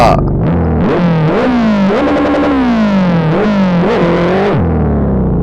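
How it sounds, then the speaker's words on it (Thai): A Honda Jazz GE running 1.8 boost in the racing game Live for Speed: a loud, buzzy exhaust note revving up and dropping back several times, close and alone with no talk. "ฟังเสียงท่อ"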